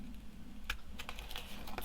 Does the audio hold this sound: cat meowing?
no